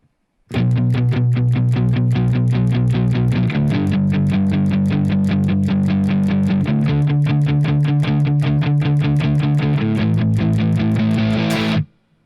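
Loud distorted electric guitar chugging rapid, steady palm-muted power chords in the intro of a song, shifting through several chord changes before ringing out, no talking.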